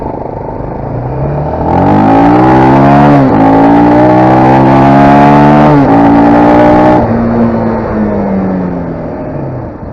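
A Minsk X250 enduro motorcycle engine revs up close and loud, climbing through a couple of rising pulls with a gear change, then eases off as the bike rides away.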